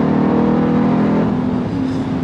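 A Jeep Trackhawk's supercharged Hemi engine, a 707-horsepower V8, revs loudly and close by, a deep sustained roar that drops in pitch toward the end.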